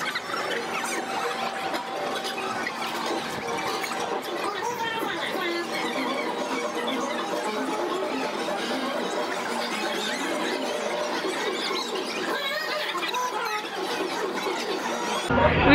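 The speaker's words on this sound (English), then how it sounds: "'Cause I was screaming the loudest and the like highest pitch as compared to the rest." Riders scream on the T-Express roller coaster at Everland in South Korea: a dense, continuous wall of high-pitched shrieking and rushing noise that stays loud throughout, with voices mixed in.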